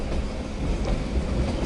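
A meter gauge passenger train runs on the Punalur–Chenkottai line, giving a continuous, dense rolling rumble of wheels on rails throughout.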